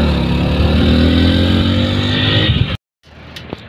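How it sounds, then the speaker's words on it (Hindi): A motorcycle ride gets under way with a loud, steady engine drone close by, which cuts off abruptly and gives way to quieter road noise. "मुझे एक बाइक मिल चुकी है और इसके ऊपर बैठकर मैं अभी ओबरा जाने वाला हूँ"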